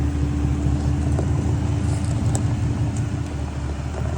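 A Jeep TJ riding on 40-inch tires pulls away, its engine a steady low rumble with road noise holding at a constant level for a few seconds, with no voices over it.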